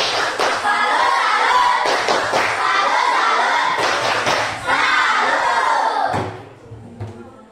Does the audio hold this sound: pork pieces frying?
no